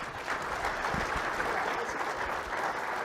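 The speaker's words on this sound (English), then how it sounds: "let's have a round of applause for our panelists coming today" A roomful of people at a limestone producers' roundtable applauding the panelists, steady dense clapping continuing evenly for a few seconds.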